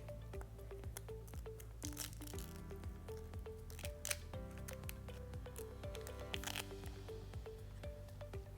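Protective backing being peeled off adhesive Tesla emblem letters, with soft crinkling, peeling and tapping noises close up, faint and irregular, with no voices.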